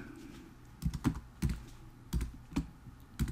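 Keys clack on a computer keyboard while Python code is typed, a few close, sharp strokes in short uneven clusters over quiet room tone, with no talking.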